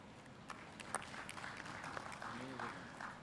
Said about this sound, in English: So it is just a big round of applause.